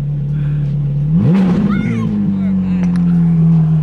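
A Ferrari 458 idles with a steady drone, then a sharp blip of revs swells and settles back into a higher, sustained engine note, loud and close, while someone talks over it.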